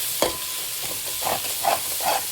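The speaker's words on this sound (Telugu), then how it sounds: "ఇదంతా బాగా ఫ్రై చేసుకోవాలి." Spices and vegetables fry in a pan for veg keema haleem, a steady close sizzle broken by several scraping stirs.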